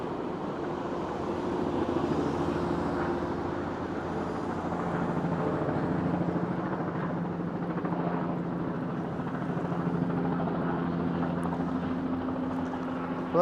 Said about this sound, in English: Ooh, that heli is close.